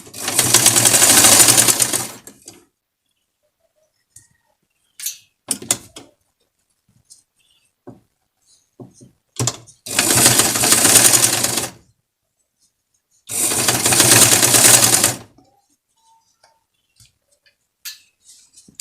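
A sewing machine stitching in a zipper runs in three loud, steady bursts of about two seconds each, separated by quiet pauses filled with faint clicks and handling noises.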